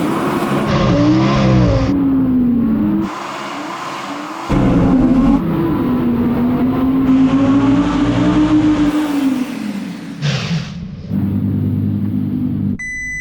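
An Audi R8 sports car revs hard at full throttle on snow with stability control off, loud and close, rising in pitch through several gear changes with brief drops between them.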